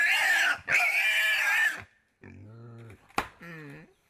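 A pig in Vanuatu gives loud, harsh squeals in two long bursts, then shorter, wheezing grunting cries follow, close and alone.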